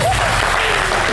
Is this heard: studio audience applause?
yes